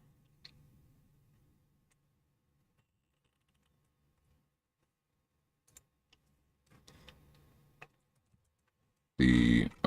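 Sparse, faint clicks of typing on a computer keyboard sit in a mostly quiet room, with a brief cluster of keystrokes near the end before a sudden loud burst closes it.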